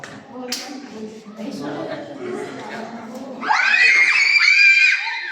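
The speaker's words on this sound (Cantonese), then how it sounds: "其實你啲尖叫聲仲恐怖過隻樹蛙" Talk and excited voices, then several people bursting into shrill, sustained screaming at a loose tree frog, loud and close, with overlapping shrieks.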